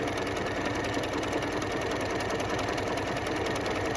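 A sewing machine running steadily as it stitches lace onto a denim jacket, a fast continuous mechanical whir and chatter that stays loud and unbroken throughout.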